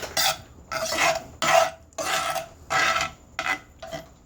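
A spinach and tempeh mixture stirred in a pan, heard as about seven rhythmic, close scraping and rasping strokes separated by short pauses, with no talking.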